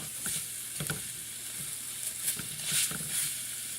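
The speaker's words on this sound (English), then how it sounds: "I added some garlic and I added some flour. I'm going to stir those together." Garlic and flour sizzle softly in a pan as they are stirred together, a quiet steady frying hiss broken by faint scraping strokes.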